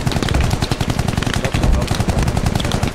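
Rapid bursts of automatic gunfire crackle continuously for the whole stretch, loud and dense, with faint voices underneath.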